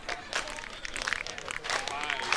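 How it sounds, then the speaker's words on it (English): A baseball crowd at First National Bank Field cheers in a steady, fairly distant roar, with a commentator talking over it throughout. "Here's the crowd."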